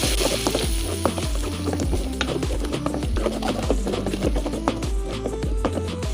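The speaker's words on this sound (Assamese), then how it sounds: "এইখিনি অলপ সময় আমি লৰাই ল'ম" Ground masala paste for kadai chicken being stirred and fried in a kadai: loud, close sizzling with repeated rhythmic scraping and knocking of a spoon against the metal pan throughout.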